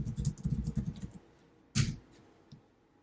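Someone types a command on a computer keyboard, a quick run of close keystrokes for about a second. After a short pause comes one sharper, louder key press, then a faint final click.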